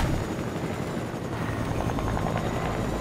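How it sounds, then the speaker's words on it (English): A helicopter flies in an online multiplayer video game, its rotor producing a loud, continuous throbbing whir close by that stays steady throughout, with no voices over it. "They're actually shooting my helicopter instantly."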